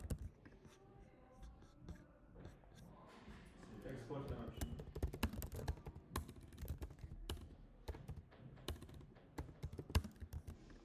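Computer keyboard typing during a programming lesson, a steady run of close clicky keystrokes with irregular rhythm, partly overlapping a person speaking quietly.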